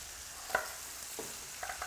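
Spare ribs searing in a hot pan make a continuous sizzle close up, with a few faint knocks and crackles breaking through, and no one speaks.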